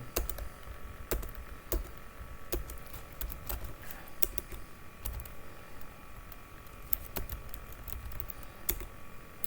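Commands are typed on a computer keyboard in a Linux exam practice session, with quiet, irregular clicking keystrokes and occasional louder key taps over a faint steady background hum, no voice.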